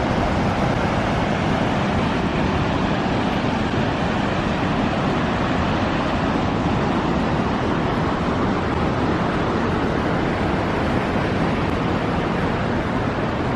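Manabezho Falls roars steadily with heavy spray, a continuous broad wash of rushing water with no breaks, moderately loud and unchanging.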